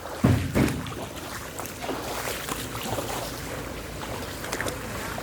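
A Toyota Revo 2.8 4x4 pickup hauling palm fruit ploughs through deep water, a loud churning wash with a sharp splash near the start, then steady rushing water and engine noise.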